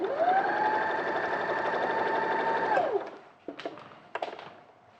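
A sewing machine stitches fabric in one steady run of about three seconds while the operator stands and sews at an angle. The motor hums evenly, then winds down, followed by a few light clicks and taps.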